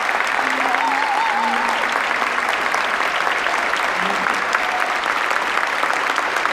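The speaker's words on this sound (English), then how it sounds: "Give them a round of applause" A large audience at a Philadelphia mayoral inauguration breaks into loud, continuous applause that holds steady throughout, with faint voices and a few cheers mixed into the clapping.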